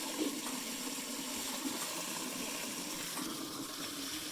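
Water runs steadily from a hose into a farm stock trough, a continuous rushing gush with no pauses, close and fairly loud throughout.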